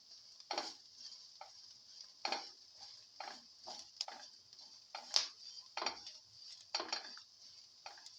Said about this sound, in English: Saute thoroughly.